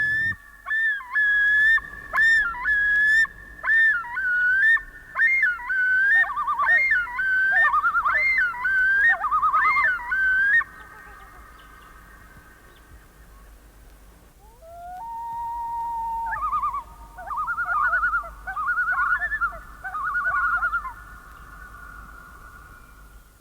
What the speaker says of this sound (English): The loon, that's the great northern diver.